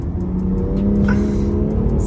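A BMW M2 Competition tuned past 530 hp is driven hard on a road in Morocco, its engine booming steadily and loud up close inside the cabin, with a brief higher tire or whine note partway through.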